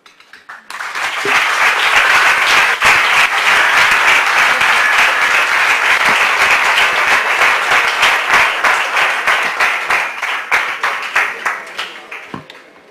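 An audience at a live performance event bursts into loud, sustained applause that swells quickly, holds steady for several seconds, then thins into scattered claps as it fades.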